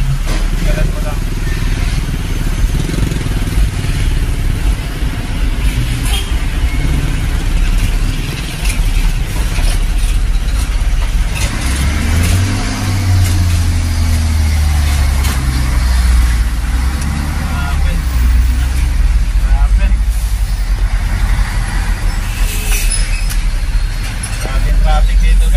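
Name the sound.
road traffic with cars and trailer trucks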